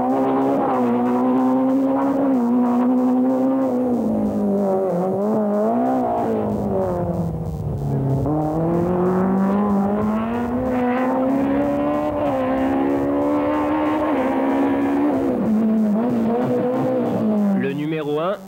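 BMW rally cars from a 1988 rally duel, their engines droning loudly and continuously with rising and falling revs, while a commentator talks over the racing noise.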